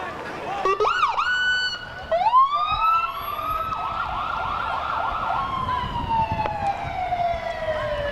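An ambulance siren wails and yelps at close range during a Memorial Day parade in Lorain, rising and falling in pitch, then settles into a steady, loud wail that slowly trails off.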